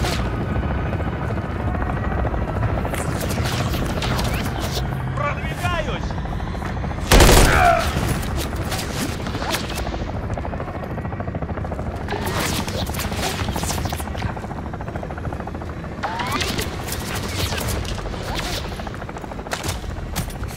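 Helicopter rotor drone mixed with bursts of automatic gunfire and explosions in the video game Call of Duty Modern Warfare 3, a sustained loud battle soundscape with a sharp boom near the middle.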